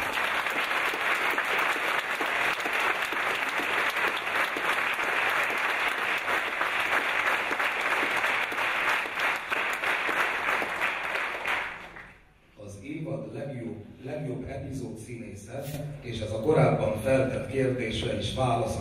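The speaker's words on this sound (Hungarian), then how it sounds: "nagy tapsot kérnék neki" Audience applause at a theatre company's season-closing gala, a dense sustained clapping that fills the room for about twelve seconds, then cuts off abruptly as a voice begins speaking.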